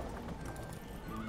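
Horses in Age of Empires: Definitive Edition, Rise of Rome campaign, neigh and clop their hooves in a steady, busy game soundscape with no talk.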